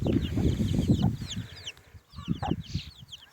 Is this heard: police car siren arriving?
no